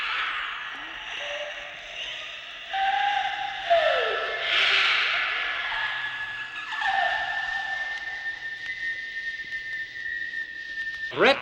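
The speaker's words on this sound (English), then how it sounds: "Wheeze and whistle." Rising and falling whistling tones glide and sustain over several seconds, with breathy, wheezy hiss underneath; fairly loud and close, with no talking.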